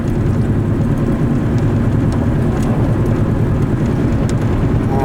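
A failing wheel bearing on a car growls steadily while driving, a constant low rumbling drone blended with road and engine noise, loud and close throughout without talk.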